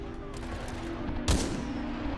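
Gunfire in the video game Titanfall 2: a single loud burst near the middle, over a steady bed of game background noise.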